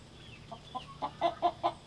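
Chickens give a few soft clucks, growing into a short series of louder, evenly spaced clucks near the end, fairly faint and close with a quiet background.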